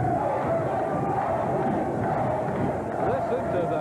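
Wrestling arena crowd roaring steadily during a women's bout, a dense continuous wash of cheering and shouting voices with no breaks, loud and close throughout.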